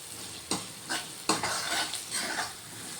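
A salted spice mixture roasted on high heat for gola kadhi, stirred in quick strokes that scrape across the pan over a soft, steady sizzle.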